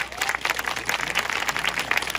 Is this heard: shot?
no